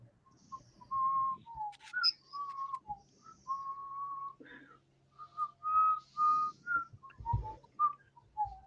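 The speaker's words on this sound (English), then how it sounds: "Who's doing all the whistling?" Someone whistles a wandering, tuneful melody of short and held notes at close range over a faint low hum, with no talking.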